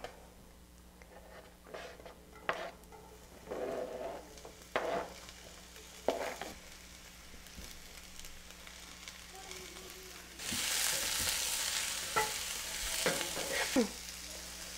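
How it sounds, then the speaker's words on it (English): Vegetables cook in hot olive oil in a pan over medium-high heat. Quiet, intermittent stirring scrapes and soft crackle give way to a louder, sustained sizzle near the end. "I've got some olive oil in my pan, and I'm going to add the vegetables."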